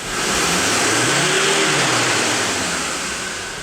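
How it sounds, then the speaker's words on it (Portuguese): A vehicle engine undergoing particulate filter regeneration is revved up hard, a loud rising rev that holds and then eases slightly over roughly three seconds, with no talk. "Eu vou acelerar o veículo."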